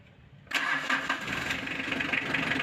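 A 4D56 diesel engine cranks and fires into a rough, steady idle after half a second of quiet, close and loud with a clattering drone.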